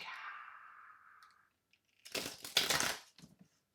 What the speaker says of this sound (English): Oof, that was a terrible shuffle.